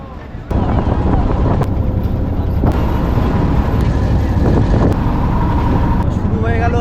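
A motor launch carries passengers along the Ganges at Varanasi, its engine and wind roaring in a loud, steady drone that starts abruptly and holds, with faint voices beneath.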